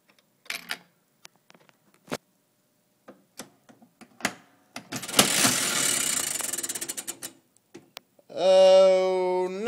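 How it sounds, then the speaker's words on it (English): Late-1800s oak penny slot machine being played: scattered mechanical clicks and ticks, then a dense burst of whirring and ratcheting, a run of rapid clicks, and a final sustained ringing, close and fairly loud. "Here's a late 1800s slot machine. It's non-mechanical. This is an oak slot machine that takes pennies."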